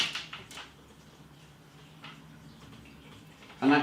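A beer torp snaps into place in a Krups SubCompact beer machine, loaded through the back door: one sharp, close click near the end, after a quiet stretch of faint handling noise.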